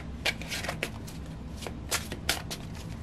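A deck of tarot cards is shuffled by hand, close and fairly quiet, with quick riffling bursts and papery slaps in an uneven rhythm, no talking.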